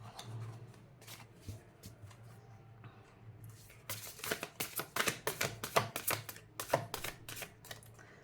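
Tarot cards are handled and drawn, starting with quiet rustles and then moving into a fast run of crisp, close flicking and shuffling snaps.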